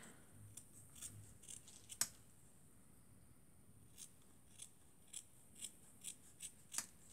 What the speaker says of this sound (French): Voilà, je viens découper.